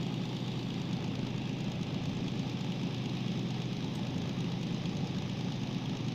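At full throttle in the first of two gears, a DM3 diesel locomotive in Derail Valley, pulling 400 tonnes of coal toward a steel mill, gives a continuous heavy engine rumble with a rough knocking texture, steady and close.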